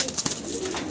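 A large single male English pouter pigeon with a tall neck gives a short, close coo, a brief low murmur among faint rustling and no talk.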